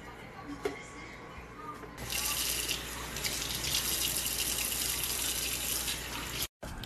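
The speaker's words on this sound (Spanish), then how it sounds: "el lavado frecuente de manos con agua y jabón" Tap water runs steadily into a sink as hands are washed with soap and water, a loud continuous gush starting after a short quiet opening, with speech nearby.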